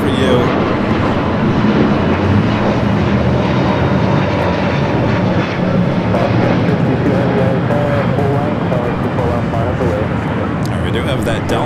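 A Delta jet at Los Angeles International Airport, its loud continuous engine roar filling the air, with a voice talking over it.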